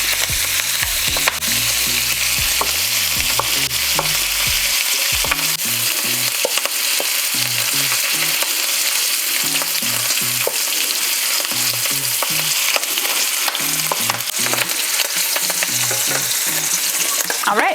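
Sichuan twice cooked pork sizzles and fries loudly in hot oil, with steady crackling and repeated scraping stir strokes of a spatula throughout, no voices.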